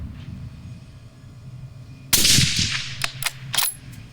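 A Savage rifle in .243 Winchester fires a single sharp, loud gunshot close by, followed by a short tail and a few quick clicks and clatters from the action.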